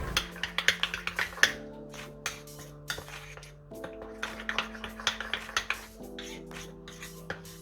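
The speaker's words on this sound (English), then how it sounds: "I'm gonna put a teaspoon of Cajun spice in the mayo, and I'm gonna mix it well." A spoon stirs a teaspoon of Cajun spice into mayonnaise in a bowl for a homemade burger sauce, giving a steady run of quick, light clicks and taps close by over soft, sustained background music.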